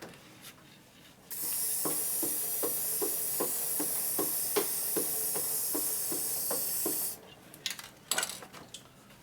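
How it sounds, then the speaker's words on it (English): Aerosol lube sprays onto the back of the chain of a custom Evo rigid bobber chopper in one steady hiss of about six seconds, with regular clicks from the turning chain, followed by a few light metallic clanks. "I'll put the can over, blow it on the back of the chain, back here."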